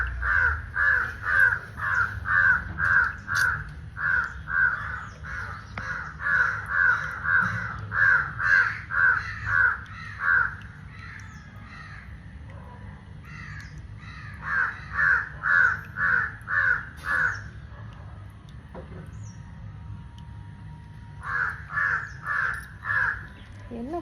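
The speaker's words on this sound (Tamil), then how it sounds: "அந்த காக்காவுக்கு இப்படி ஆன உடனே அத்தனை காக்காவும் எல்லாத்தையுமே கூப்பிடுது" Crows caw loudly and repeatedly around an injured crow, their calls coming in rapid bursts of harsh, clustered cries with short pauses between, close and dominant over faint low background rumble.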